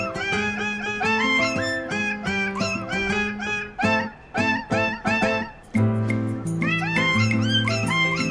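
Several cats of mixed breeds in a cat café meowing repeatedly and close by, a busy overlapping chorus of rising and falling cries with brief pauses between bursts.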